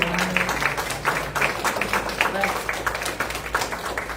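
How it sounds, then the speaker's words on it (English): Audience members at a town hall meeting applaud Bob, a brisk spatter of many hands clapping close by at an even rhythm, with a murmur of voices underneath. "Let's give Bob a great big round of applause"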